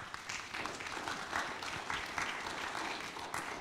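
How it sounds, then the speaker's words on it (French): Audience applause after introductions at a French science and health forum session on cancer, a steady crackle of many hands clapping at moderate level, filling the moment evenly without speech. "On peut les applaudir."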